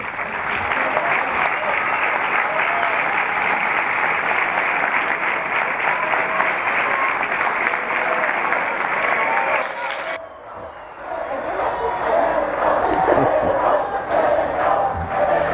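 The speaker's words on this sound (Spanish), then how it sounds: "démosle la bienvenida con un gran aplauso a Gustavo Petro." Large crowd at a Bogotá mayoral campaign launch applauding and cheering loudly for a candidate, sustained dense clapping and shouts that shift into chanting and voices near the end.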